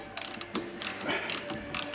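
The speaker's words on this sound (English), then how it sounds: "So I'm just going to tighten all these 4 bolts down," A ratchet wrench tightens four bolts on a Ford car during brake and suspension repair work, clicking in quick, close bursts separated by brief pauses.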